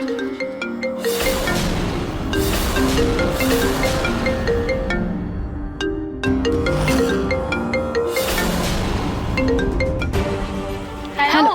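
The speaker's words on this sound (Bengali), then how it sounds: "ডাক্তারবাবুর ফোন বাজছে" A phone ringtone plays a repeating melodic tune, loud and close, cycling several times without pause.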